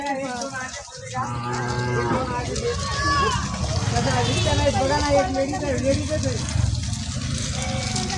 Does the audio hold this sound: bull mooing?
yes